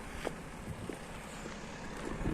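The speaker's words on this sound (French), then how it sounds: "là il y a du vent" Wind buffeting outdoors in steady gusty rushes, with soft low rumble and faint broadband whoosh, fairly quiet and without talk.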